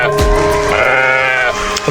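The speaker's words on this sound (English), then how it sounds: "What sound does a sheep make?" A sheep bleats several times, a wavering, nasal baa with a pitch that rises and falls, close and loud through about two seconds.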